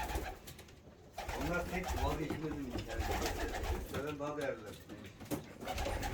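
Ornamental pigeons coo close by in a loft in soft, rolling bursts, repeated a few times, while people talk over a constant background murmur.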